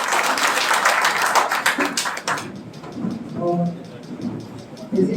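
Applause at a district-level lecture series event, a burst of clapping that fades out about halfway, followed by quieter room noise and brief faint sounds.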